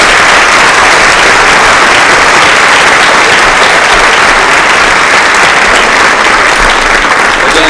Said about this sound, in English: How about one more round of applause for all of our students?